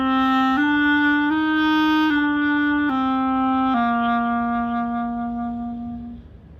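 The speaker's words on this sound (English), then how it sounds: "So, this is how you make a sound with the clarinet." Clarinet played alone with a steady breath of air through the reed, holding a series of sustained tones that step gradually downward and fade at the end.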